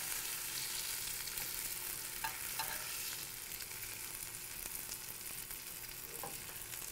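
Goat cheese rounds sear in a hot pan with a steady, close, broadband sizzle that holds throughout, with a couple of faint utensil taps along the way.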